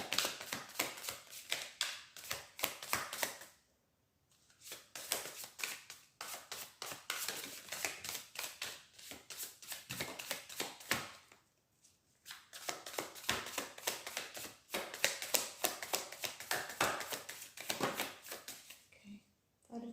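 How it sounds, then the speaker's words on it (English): Tarot cards being shuffled by hand during a Cancer monthly reading, a steady papery riffling and tapping that runs in long bursts with two short pauses, close and fairly quiet. "I'm going to take these and then we'll shuffle."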